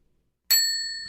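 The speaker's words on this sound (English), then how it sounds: "For that, my friend, you get a bell." A single bright bell ding sound effect strikes sharply after a moment of silence, then rings on with a clear, sustained metallic tone that slowly fades.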